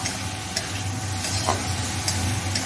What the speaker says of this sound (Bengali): এই দেখো মাশরুমটা একদম সিম্পলভাবে মশলা মাশরুম করছি, একদম হালকা।